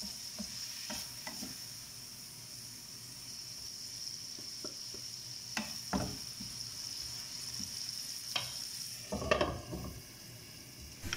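Seasoned chicken with black pepper being stirred in a pan, with scraping, clinking utensil strokes over a faint steady sizzle and a louder clatter near the end; no talking.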